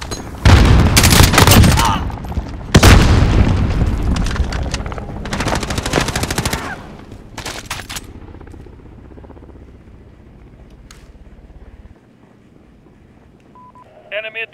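Heavy automatic gunfire in the PC video game Call of Duty Modern Warfare, loud close bursts that thin out into scattered distant shots and then quiet, with game voices calling out between them.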